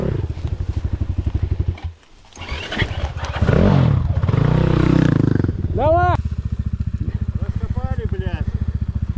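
A vehicle engine revs in pulsing bursts under throttle, rising and falling nearby with a rhythmic throb, while people shout and talk over it outdoors.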